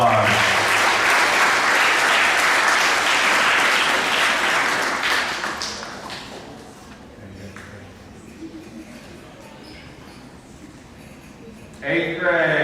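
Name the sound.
audience applause for honor roll students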